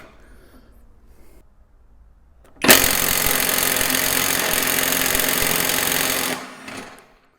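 An Ingco cordless impact wrench loosens a 450 Nm nut, starting with a sudden loud burst of continuous rattling hammering that holds steady for about four seconds and then cuts off, after quiet background handling.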